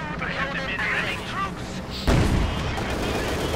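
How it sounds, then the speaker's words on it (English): A Panzer IV tank fires high-explosive shells in the Company of Heroes 2 battlefield game, a sudden heavy boom over distant battle noise, while a commentator talks throughout. "Panzer 4 firing away, high explosive shields ringing across the battlefield, and Heisenberg'"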